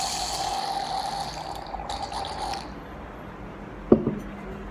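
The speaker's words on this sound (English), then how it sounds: "Didn't realize how much I was pouring for myself right there." Red wine, a 2016 Protos, pours into a glass at a hostel in Santander, Spain, a steady liquid gurgle lasting a few seconds that tapers off, followed by a short clink.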